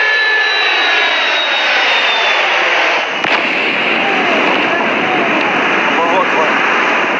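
A loud, roaring military jet engine thunders continuously and close during takeoff from Incirlik, Adana, with a steady high whine over a dense broadband roar.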